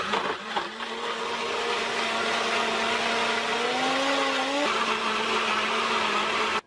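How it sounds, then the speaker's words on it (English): A sealed blender whirs loudly through coconut milk ice cream, its motor pitch climbing steadily as it spins up, then dropping abruptly before cutting off at the end. "Let's pop it on to blend."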